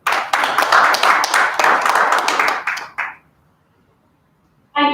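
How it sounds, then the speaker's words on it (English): A conference audience claps for about three seconds in a dense, lively burst that cuts off abruptly, followed by near silence and then a brief closing sound. "extend a warm hand of applause"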